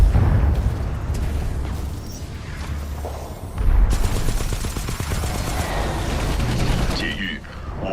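Heavy gunfire in the shooter Titanfall 2, rapid automatic bursts and explosive booms that swell midway, loud and continuous with voices talking over the battle.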